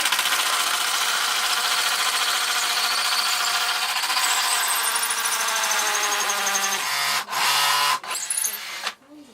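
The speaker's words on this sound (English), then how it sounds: "So when we drill in, we know we're going to go up to that drill." A power drill boring holes while a mini wine cellar is built whines steadily and loudly, then stops and restarts in a few short bursts near the end, heard close up.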